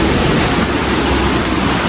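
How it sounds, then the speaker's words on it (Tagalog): A creek flows beside a walking path, a loud, steady rushing hiss of water heard close by for a couple of seconds with no voices. "Yan po yung gilid po ng dinadaanan po namin ay tabing sapa."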